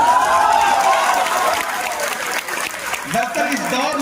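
An audience claps loudly and steadily through a poetry recital, a dense wash of many hands with crowd noise in it, as a voice carries on over the clapping.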